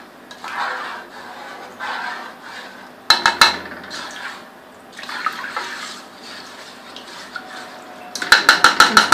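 Cumin rice being stirred with salt in a pot: scraping utensil and clinking on metal in bursts, with a run of sharp rapid taps near the end, fairly close with no talk.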